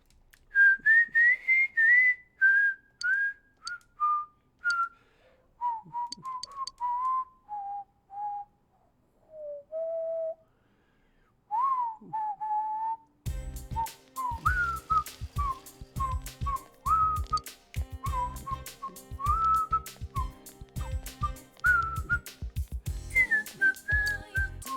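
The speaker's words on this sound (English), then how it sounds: "what am I gonna whistle now?" A person whistles a tune alone in melodic phrases for about half the clip, then keeps whistling over busy, rhythmic game background music that enters midway.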